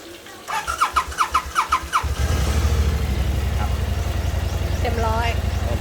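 A BMW 650 motorcycle powered by a Super Spark box cranks over in a fast series of pulses, then catches and settles into a loud, steady idle. Someone talks briefly over the starter.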